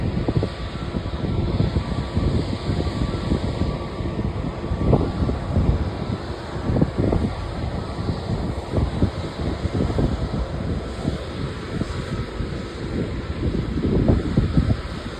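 Strong gusty wind blows at an airport where planes are being watched, a steady loud rush of buffeting across the microphone that rises and falls throughout, with no clear talk.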